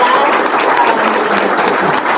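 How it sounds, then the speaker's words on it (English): Audience at a Loudoun General Assembly candidate forum applauds the candidates, a dense, steady wash of many hands clapping at even loudness throughout. "Give our candidates a round of applause"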